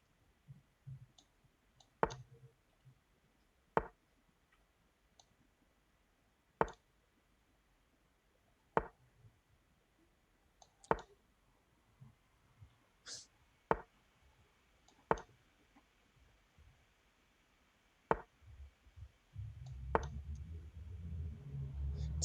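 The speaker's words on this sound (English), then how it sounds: "I could hear you clicking, trying to click fast" Computer mouse clicks during a fast online chess game, sharp isolated clicks spaced a second or two apart, fairly close but quiet, with some rustling noise near the end.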